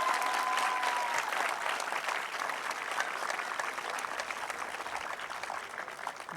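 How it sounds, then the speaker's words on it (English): Audience applause at a medical school white coat ceremony, a dense sustained clapping from a large hall crowd, fairly distant, fading slightly toward the end with no talk over it. "I think they deserve a big round of applause."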